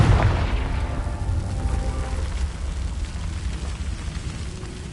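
A Confringo blasting spell goes off in Hogwarts Legacy on PS5, a loud, close boom that opens the clip and then rumbles and fades away.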